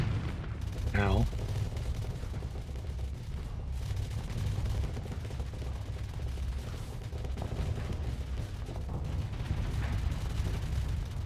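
Dense, continuous barrage of explosive impacts and weapon fire as missiles strike a ship in the space combat game Starsector, loud and sustained throughout, with a brief descending whine near the start.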